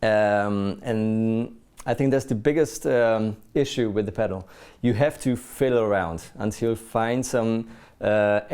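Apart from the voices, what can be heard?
No everyday noise stands out behind the speech.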